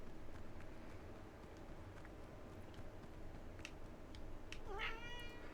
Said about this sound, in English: A meow.